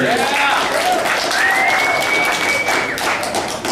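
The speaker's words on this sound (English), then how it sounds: "a nice warm round of applause for Danny Steinberg" Warm applause from an audience greets a poker player introduced at a final table, steady broadband clapping throughout with a voice talking over it.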